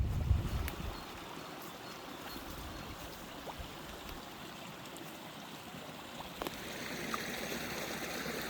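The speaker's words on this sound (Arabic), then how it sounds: "وصوت المي اللي يجري" Running stream water in Belgrade Forest, Turkey, a faint continuous trickle and gurgle in a quiet woodland, steady throughout with a brief bump of handling noise at the start.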